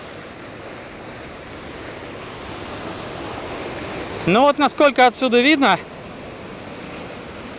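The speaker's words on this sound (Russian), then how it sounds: "волны добивают почти до самой скалы" Winter sea waves wash against a rocky Crimean shore between Alushta and Sudak as a steady, broad surf roar mixed with wind, continuing under a brief spoken remark midway.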